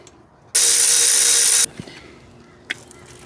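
A brake caliper slide bolt is run back in with a power tool, a loud steady whir lasting about a second, followed by a couple of quiet metallic clicks and a short sharp tap.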